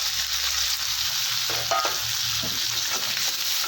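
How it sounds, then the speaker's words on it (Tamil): Onion, green chili and curry leaves sautéing in hot oil with fennel and cumin, a steady close sizzle with a few brief scrapes of stirring. "இப்போ வந்து வெங்காயம் பச்சை மிளகா கருவேப்பிலையை சேர்த்துக்கலாம்"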